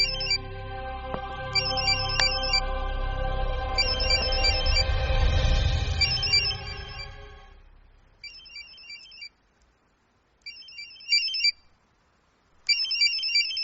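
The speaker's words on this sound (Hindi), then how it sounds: "कोई फोन बज रहा है।" An electronic phone ringtone chirps in short repeated bursts, first over a loud rumbling background, then alone with pauses between rings.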